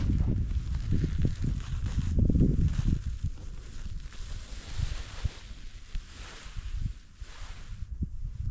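Outdoor wind buffets and rumbles in low gusts while a vegetable row cover is unrolled in a garden, with fabric rustling and soft handling noises close by.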